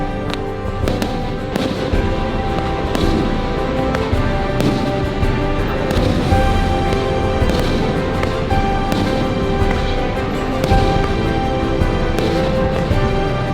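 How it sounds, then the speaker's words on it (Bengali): Fireworks bursting over Niagara Falls, a dense, continuous barrage of loud crackling pops and booms with no pauses, heard close and sustained throughout. "ফাইনালি গাইজ ফায়ার ওয়ার্কস শুরু হয়ে গিয়েছে"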